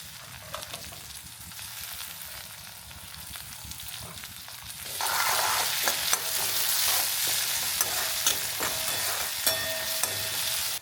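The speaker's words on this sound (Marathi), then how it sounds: "आता मी टमाटर टाकणार आहे." Tomatoes hit a hot pan for fried rice, the frying jumping to a louder, sustained sizzle halfway through while a utensil scrapes and stirs nearby, with no talking.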